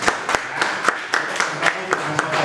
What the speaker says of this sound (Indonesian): tepuk tangan dong Pak Ari